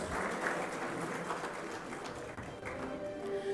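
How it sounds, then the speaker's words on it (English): An awards ceremony audience claps for a winner, a moderate, steady wash of applause from a large room, with a voice speaking briefly near the end. "Can we have a round of applause?"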